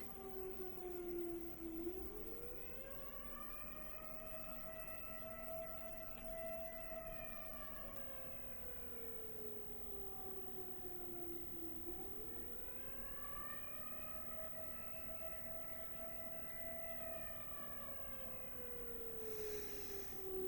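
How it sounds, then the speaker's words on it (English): A wailing siren rises and falls in long slow cycles, steady and moderately distant, with a constant low drone underneath. "Do you hear the sirens?"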